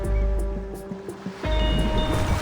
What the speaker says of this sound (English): The waves create a chiming sound.